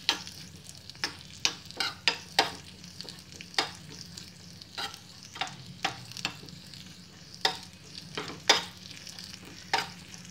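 Chopped dry fruits sizzle gently in hot ghee in a pan, with repeated scraping stir strokes of a spoon at an uneven rhythm over a soft continuous fry, close and moderately quiet.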